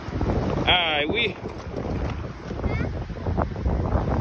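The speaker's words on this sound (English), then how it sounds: "might be a little windy out here to y'all" Steady low wind rumble buffeting the microphone throughout while fishing outdoors in Pensacola, with a brief chirping tone early on and no talking.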